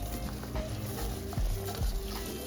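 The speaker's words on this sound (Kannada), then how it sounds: "ಸೊ ಇವಾಗ ಅಕ್ಕಿ ಹಾಕ್ತಾ ಇದ್ದೀನಿ." Rice poured into a pot of chicken biryani masala with coriander powder is stirred with scraping, shuffling strokes and a light sizzle underneath, close up and moderately loud, with a couple of sharper knocks near the end.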